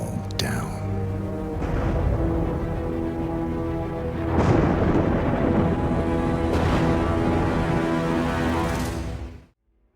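Thunderstorm in Hitman World of Assassination: rolling rumbles with sharper cracks swelling in waves over a dense wash of rain and wind, loud and continuous before cutting off abruptly at the end.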